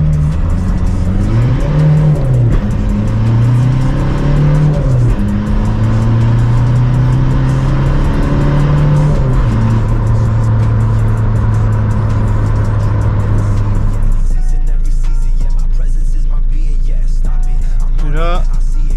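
A car on a turbo remap with the turbo boost pressure at maximum, flooring it from 30 to 100 km/h, its engine note climbing and rising through gear changes, loud and close, before cutting to a steady idle-like drone near the end.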